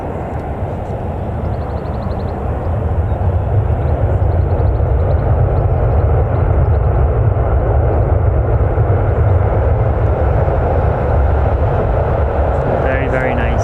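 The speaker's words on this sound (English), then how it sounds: "Right, so we've got this one just taxiing" An airplane taxiing at Newcastle Airport gives off a steady, loud, low engine rumble with a broad roar that holds evenly for the whole stretch, as if passing fairly close.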